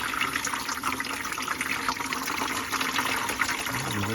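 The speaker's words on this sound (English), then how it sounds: "Right, let me rinse them off a little better" Running water splashes steadily over a batch of tumbled peach and green aventurine stones during rinsing, a continuous close wash of trickling and spattering with no pauses.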